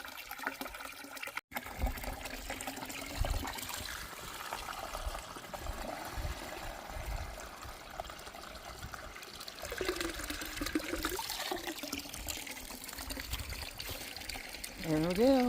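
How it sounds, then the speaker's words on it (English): Water from a flowing stream in Henry Coe State Park is collected into a bottle during a backpacking trip, giving a continuous close gurgle and trickle that rises toward the end as the container fills. A voice is heard faintly alongside. "I just cannot resist water flowing like this"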